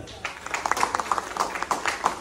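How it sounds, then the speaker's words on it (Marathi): An audience at an eighth-anniversary company function in Baramati breaks into brisk, irregular clapping, a short burst of sharp claps from a modest crowd. "एनडी सरांसाठी एकदा जोरदार टाळ्या होता"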